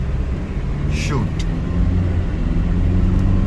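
A 2013 Ford Endeavour 4x4 automatic SUV's engine roars inside the cabin as it accelerates, a steady low rumble that rises as speed builds, with someone talking over it.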